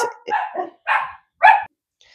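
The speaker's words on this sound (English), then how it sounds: "My dogs are freaking out about something" Dogs bark in a burst of four or five loud, close barks with short gaps between them, alone with no talking over them.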